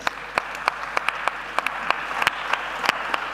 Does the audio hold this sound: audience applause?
yes